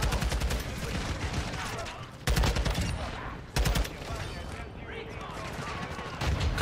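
Rapid automatic gunfire from a TAQ-56 rifle in the video game Modern Warfare II comes in loud bursts separated by short pauses, with impacts and game effects under a player talking.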